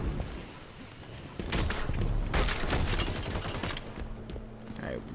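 Gunfire rattles in scattered bursts amid a heavy thump of a grenade blast during a Halo 5 multiplayer match, the sounds moderately loud over a busy battle backdrop, with voices talking between.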